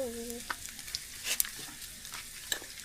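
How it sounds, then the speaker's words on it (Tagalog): Dried squid frying in a pan, a soft sizzle with scattered utensil clinks and scrapes, close but fairly quiet, with a brief tonal squeak at the start and no speech. "Luto tayo ng bulad. So, dried squid muna."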